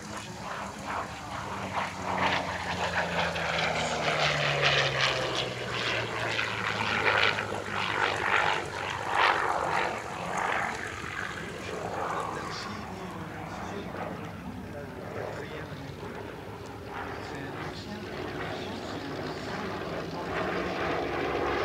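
Propeller warbirds such as a Yak-9 and a Let C-11 trainer perform solo displays at the Air Legend airshow, their engines droning steadily with rising and falling passes over a continuous crowd-and-wind wash, no distinct talk.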